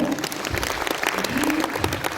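Applause from the audience at a charity concert for fire victims, a steady wash of clapping throughout, with a voice speaking faintly underneath.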